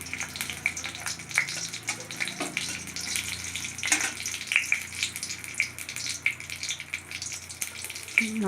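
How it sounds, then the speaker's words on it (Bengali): Mustard seeds and a dried red chili fry in hot oil, making a steady sizzle with frequent sharp pops and crackles, close and continuous throughout. "লঙ্কাটা একটু ভাজা করে নিলাম একটু একটু ভেজে নিলাম"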